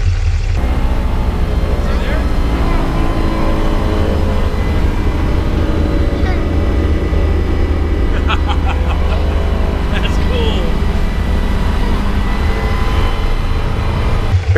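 The piston engines of an Albatross aircraft run up before takeoff, a loud, constant low drone and rumble that persists unbroken from start to finish, with faint voices underneath.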